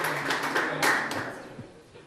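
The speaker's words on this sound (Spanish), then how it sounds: "Un fuerte aplauso, Brian Van Spandong." Applause for a coach at a bowling association award ceremony in Aruba, a fairly dense patter of clapping that swells briefly near the middle and then thins out toward the end.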